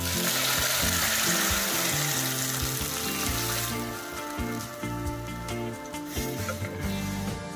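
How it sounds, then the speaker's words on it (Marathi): Milk pours into a hot pan of fried cashews and almonds while making sabudana kheer, giving a loud, steady sizzle that softens into a quieter bubbling hiss partway through. "काजू बदाम आता आपले चांगले फ्राय झालेले आहेत त्याच्यात आता आपण ऍड करूया दूध"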